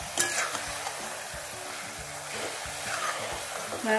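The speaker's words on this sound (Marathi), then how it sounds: "हे आपल्याला घट्ट होईपर्यंत हलवत राहायचं आहे एकसारखं." A utensil scrapes and stirs thickening colostrum milk sweet with sugar syrup in a pan, producing repeated soft scraping strokes over a low bubbling sizzle, close up and without talk.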